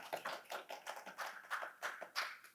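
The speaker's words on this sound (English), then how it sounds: "Applause to everyone." Audience at an annual volunteer organization meeting clapping, a quick steady patter of many hands in a room, moderately loud and continuous.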